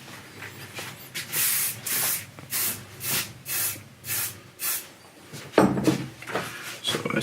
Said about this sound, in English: I got a lot of spray glue hanging around.